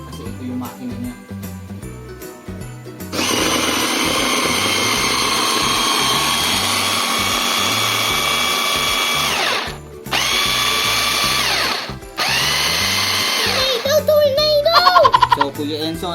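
A 4-in-1 hand blender motor runs loud and steady with a high whine, cutting out briefly twice before restarting; quiet talk and handling noises come before it, and the motor sputters near the end.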